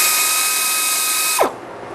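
A tool whirs steadily for about a second and a half while breaking loose bolts on a car water pump, then cuts off abruptly with a short falling tone. It is loud and close, with no talk.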